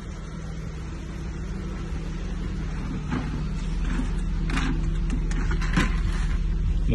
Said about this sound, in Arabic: راح نرفع السيارة، الرافع نوريكم اسفل السيارة كذلك